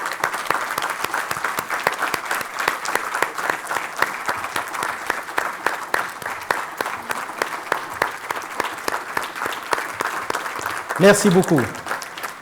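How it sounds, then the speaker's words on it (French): Standing ovation for a tribute lecture honoring a professor: a dense, sustained wave of audience applause filling the room for many seconds, with someone briefly speaking over it near the end. "je vous demande un standing ovation, de vous tous vous lever et l'applaudir le plus longuement possible"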